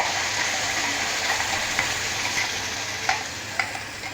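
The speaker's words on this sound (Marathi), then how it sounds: "ही आपण आता हे तेलामध्ये टाकणार आहोत" A masala paste of dried coconut, onion and ginger-garlic fries in oil with a steady, close sizzle, and a few soft clinks and scrapes of stirring sound over it. No one speaks.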